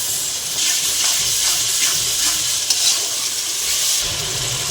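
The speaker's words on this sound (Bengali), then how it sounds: "পেঁয়াজ কুচি দিয়ে দিলাম এখানে আদা রসুন বাটা দিয়ে দিলাম" Chopped onion and ginger-garlic paste fry in a hot pan for a kasundi chicken dish, giving a loud, continuous sizzle with occasional stirring scrapes throughout.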